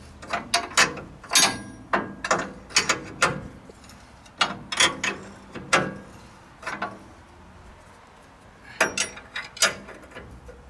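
Ratchet wrench snugging a bolt during a Ford F-150 twin I-beam to twin traction beam swap, passenger side, with a taller spring puck fitted: repeated close, crisp clicking bursts in uneven runs with short pauses between.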